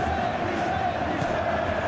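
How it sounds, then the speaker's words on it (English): Steady crowd roar from a football stadium in a video game match in the Italian Serie A with Empoli FC, a dense continuous murmur throughout with no distinct cheers or chants standing out. "The crowd hugely expectant"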